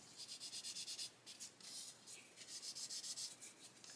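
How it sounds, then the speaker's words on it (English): Sanding a seam on a 1/48 Airfix Sea King plastic model kit makes faint, rhythmic back-and-forth rasping strokes, with a short pause midway before the rubbing resumes at a steady pace. "Do a little bit more sanding up there because I can see a little bit of a seam."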